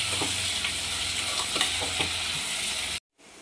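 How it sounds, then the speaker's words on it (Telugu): Onions frying in a pan for goat head curry, a steady close sizzle with scraping stir strokes, cutting off abruptly near the end with a quieter tail. "మంచిగా బ్రౌన్ కలర్ వచ్చేలాగా ఫ్రై చేసుకోండి ఆనియన్స్"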